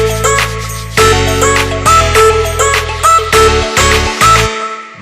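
A complete electronic music track from a music project plays with bright repeating melodic stabs over a deep bass line and a steady pulsing rhythm, full and close with no talking.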